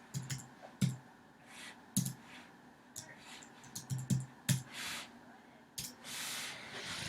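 Computer mouse clicking while a note is added in Evernote, several sharp isolated clicks spaced irregularly and recorded close, with faint hissy breaths or noise between them.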